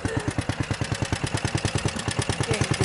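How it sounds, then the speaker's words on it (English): A small engine runs steadily after a carburetor rebuild, chugging in a fast even rhythm of clattering pulses, close and moderately loud with no talk. "Engine running."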